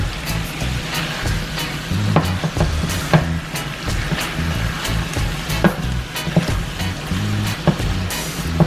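Ackee and saltfish with seasoning is stirred in a frying pan, a steady sizzle broken by repeated scraping and knocking of the spoon against the pan, close and alone.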